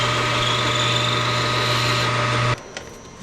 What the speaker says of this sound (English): Let's start with a 3/8 inch drill bit.